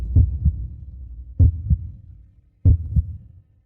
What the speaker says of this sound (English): The heart beating in your chest